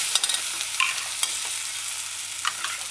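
Spoon stirring diced potatoes coated in herbs, salt and sautéed vegetables for a potato coconut stew, with a steady soft sizzle and scattered scraping clicks throughout, fairly close and without voices.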